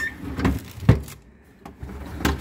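A vegetable crisper drawer in a home fridge slides on its runners, giving a few short scraping and thudding bursts separated by brief quiet gaps.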